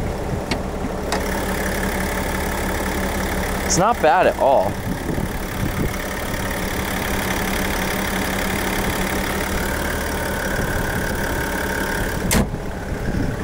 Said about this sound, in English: I'll open the hood again so you can hear the diesel